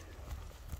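Quick hoofbeats from a large, light-footed kok-boru horse pushed into a gallop, a low rolling clip-clop at moderate distance over steady outdoor background noise.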